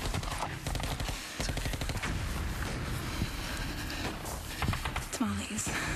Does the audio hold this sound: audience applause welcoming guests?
no